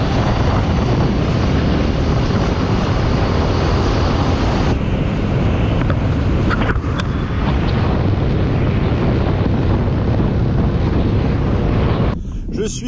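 A motorcycle rides along the road on a long overland trip in Russia, its steady engine drone buried in heavy wind rush against the microphone, continuous and loud with a brief dip near the end.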